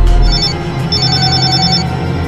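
A telephone rings loudly with a repeating electronic trill in steady pulses, with no voices.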